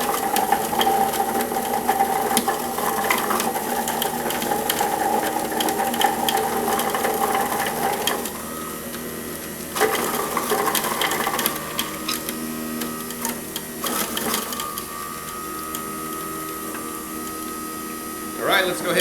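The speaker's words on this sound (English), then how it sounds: "The carrots in this machine, like, it's just grating them up a lot faster and a lot more efficiently than the O2." An Omega centrifugal ejection juicer grates carrots with a steady, loud motor whine and rattling, shifting in pitch as the carrots are pushed in, with brief breaks in the grinding.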